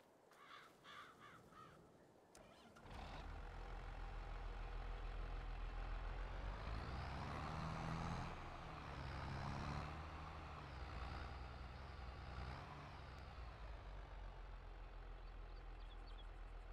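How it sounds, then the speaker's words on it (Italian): Tractor engine in Farming Simulator 22 starts after a couple of seconds and then runs steadily at a low, rumbling idle with slight rises in revs. A crow-like caw is heard briefly near the start. "Adesso mi vado a prendere il trattore perché è molto, molto più comodo per registrare percorsi"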